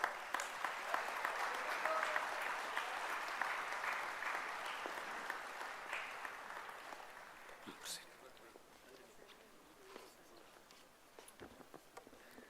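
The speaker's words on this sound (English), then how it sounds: "With a very big round of applause." An audience at a national conference applauds steadily, a dense patter of clapping near the listener that slowly fades over several seconds, with scattered claps and light murmur at the end.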